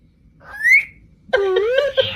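A slide whistle gives a quick rising glide, then after a short gap a louder wavering pitched tone with rich overtones bends up and down for about a second, loud and close.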